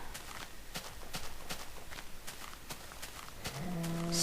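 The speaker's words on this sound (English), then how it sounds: "Cows." Cows in the video game Light of Aster, heard over steady rhythmic footsteps, with a low drawn-out moo rising at the very end.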